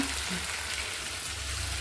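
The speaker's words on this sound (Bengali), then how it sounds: "মুরগি ভাজা বসিয়ে দিছি" Chicken pieces fry in a pan with a steady, dense hiss of hot oil, an even sizzle that holds unchanged without a break and without any voices.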